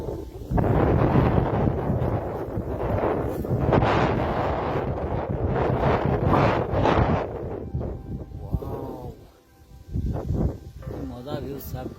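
Strong gusts sweep across a hilltop and roar against the microphone in a loud, rumbling rush that dips briefly near the end before surging again, while a person talks over it.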